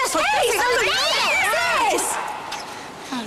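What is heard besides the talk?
cat meowing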